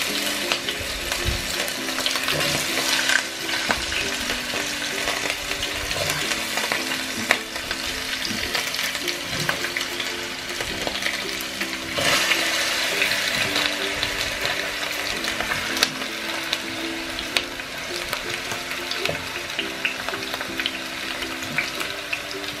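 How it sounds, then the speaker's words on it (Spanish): Potatoes frying in hot oil for a dish of jalapeños with cheese and bacon, a steady dense sizzle lasting throughout with occasional stirring scrapes, close and fairly loud with no talking. "Aquí ya está caliente el aceite. Ahora lo que voy a hacer es guisar las papas."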